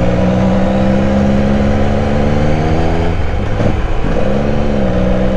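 A Benelli Caferacer 1130 motorcycle with an 1130 cc engine runs loud and close, its droning tone climbing and dipping as the throttle is worked, with no talk over it.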